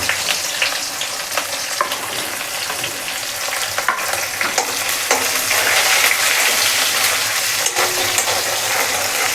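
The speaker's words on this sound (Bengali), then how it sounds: "পেঁয়াজটা একটু ভাজা হয়ে এলে ওই কালারটা যখন একটু চেয়েছিল একটু ব্রাউন কালার আসবো" Onions fry and crackle in a pan, with frequent stirring scrapes over a dense, continuous sizzle heard up close.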